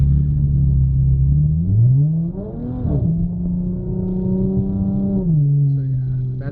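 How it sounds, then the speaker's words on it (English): Heard from inside the car, a straight-piped 2014 Dodge Challenger SXT V6 with resonator and mufflers deleted drones low while moving in traffic, its pitch rising briefly then settling into a steady rumbling hum before dropping again. "That is being a straight piped 2014 SXT Dodge Challenger straight pipe, deleted resonator, deleted mufflers."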